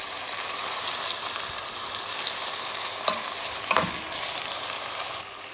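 Chicken adobo pieces sautéing in a hot pan, a steady loud sizzle and fry running throughout with a couple of brief clinks from stirring, no voices over it.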